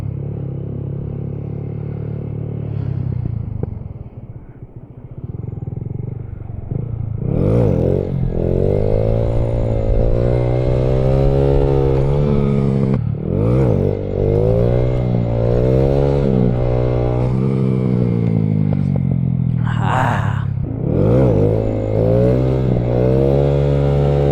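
A 2015 Honda Grom motorcycle engine revs hard and close during wheelie practice, with several climbing and falling throttle bursts after a quieter start and no talk.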